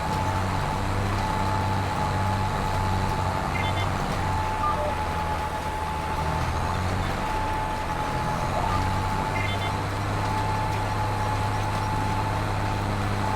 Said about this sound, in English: this is just almost a little bit too much for this tractor